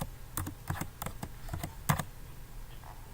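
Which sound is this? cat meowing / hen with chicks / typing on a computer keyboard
typing on a computer keyboard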